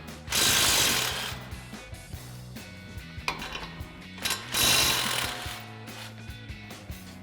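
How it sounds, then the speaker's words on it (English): Impact wrench with an 18 mm socket running strut mounting nuts off a 2021-2023 Ford Bronco, heard as two loud rattling bursts with a quieter ratcheting stretch between them. "we'll grab our 18 mil socket on our impact and run these off"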